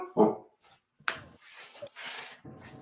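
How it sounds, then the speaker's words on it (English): A pet dog yelps and barks in short, sharp bursts near the microphone during a catfish tournament weigh-in outdoors, with brief gaps of quiet between the outbursts. "Sorry about my dog, folks."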